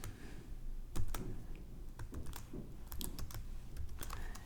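Quick, uneven typing on a computer keyboard, a string of sharp close clicks and clacks with short pauses, quiet and without voices.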